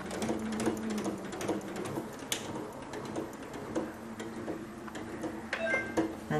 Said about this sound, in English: So it's just stitching on the spot, it locks off.